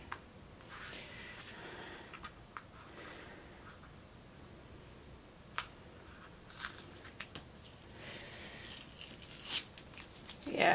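Washi tape is peeled and torn off paper in a quiet room, giving faint scratchy rips and crinkles with a few sharper tearing bursts near the end.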